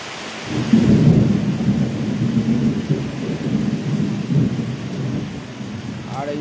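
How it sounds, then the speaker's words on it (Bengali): Thunder rolls in a long, deep rumble over steady heavy rain and gusty wind during a storm in the Sundarbans, the rumble swelling early and fading into the rain's hiss. "এখানে যদি এইভাবে বৃষ্টি হয় মেঘ ডাকে"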